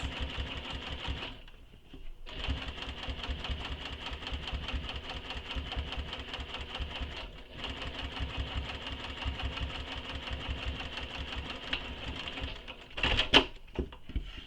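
A sewing machine runs in steady rapid bursts while top-stitching a shoulder bag, its even mechanical whir pausing briefly twice before a final short rattle as the stitching stops.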